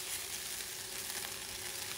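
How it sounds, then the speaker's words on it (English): Water brushed onto a hot pan on an electric stove gives off a soft, steady hiss of sizzling that carries on without a break at low volume. "this is a brush with a little bit of water."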